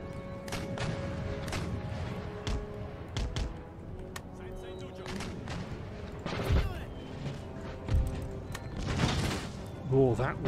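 Musket volleys fired by rank in Empire Total War battle: scattered cracks and booming reports pop at irregular intervals over a busy battlefield bed, moderately distant, with someone talking over them.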